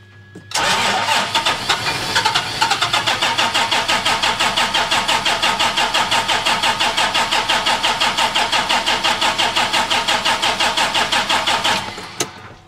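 Engine cranking on a start attempt after a fuel filter change: a rapid, even chugging of the starter turning over for about eleven seconds, loud and close, without catching, then stopping.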